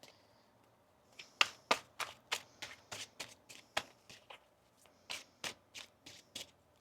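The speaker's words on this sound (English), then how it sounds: "One more shuffle here." A tarot deck being shuffled in a series of crisp, rapid riffles and snaps, close and clear with short pauses, no talking.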